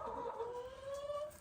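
Hens in a deep-bedded coop on a small Canadian homestead give a soft, drawn-out vocal call, faint and nearby, with no talk over it.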